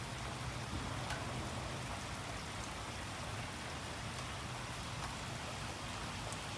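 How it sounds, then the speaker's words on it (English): Steady, dense rain on an Oklahoma property during spring flooding, with water pouring down a drainage ditch, forms a continuous loud wash of rain and rushing runoff throughout, with no voices. "Water's just pouring down that drainage ditch"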